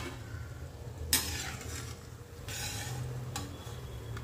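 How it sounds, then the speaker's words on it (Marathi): Chakli made from bhajani flour are lifted out of hot frying oil with a slotted spoon and set into a steel strainer, giving a steady soft sizzle with a few sharp metallic clinks and scrapes. "चला ह्या स्टीलच्या चाळणीमध्ये चकल्या काढते."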